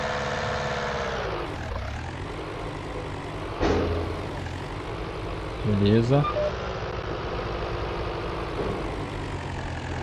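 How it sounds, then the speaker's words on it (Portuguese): The John Deere 6M tractor in Farming Simulator 19, spreading lime, drones with a steady engine hum that dips and surges briefly as it struggles with a gear change, under occasional talk. "Ia passar mais marcha, mas o trator dá uma engasgada, galera."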